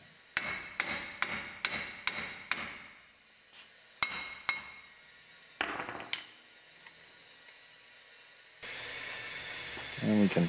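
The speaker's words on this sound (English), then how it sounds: "Tap the hub out of the knuckle." A hammer knocks a wheel hub out of a Silverado truck's steering knuckle in a quick run of six sharp metallic blows, then a few scattered strikes, followed by a hiss and rattling handling noise at the end.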